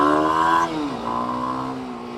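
Kawasaki KLX 300 motorcycle exhaust under acceleration beneath an underpass: a close, buzzy engine note climbs, dips sharply as the throttle changes, then settles into a steady drone.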